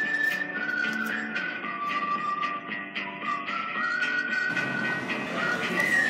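A train rolls along steadily with a sustained metallic squeal and rumbling wheels, fairly quiet and continuous throughout.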